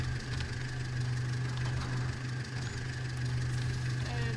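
Tractor engine idling in Farming Simulator 22, a steady low rumble holding constant and close throughout with no speech over it.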